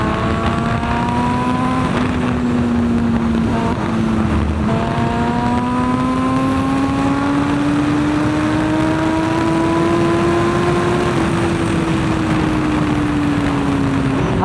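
Sport motorcycle engine in sixth gear on a group ride, a loud continuous drone whose pitch dips briefly then climbs steadily and eases back, heavy wind rush underneath, no talk.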